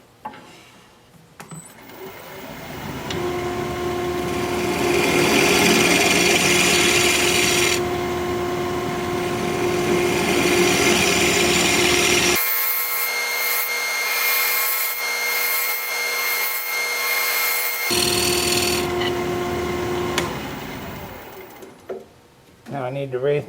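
A wood lathe turns a koa blank while a tool cuts a recess, giving a loud sustained whirring hum with scraping and rasping, interrupted midway by a differently textured stretch, and a voice talking over it.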